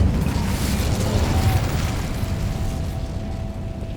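Incendio fire spell cast in Hogwarts Legacy, a dense, rumbling burst of roaring flame that stays loud and steady across the whole moment, with a faint tonal whine running through it.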